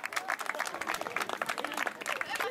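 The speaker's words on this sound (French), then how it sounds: "on va l'applaudir bien fort pour la motiver un petit peu" A magic show audience applauds loudly and steadily to encourage a volunteer from the crowd, a dense run of many clapping hands.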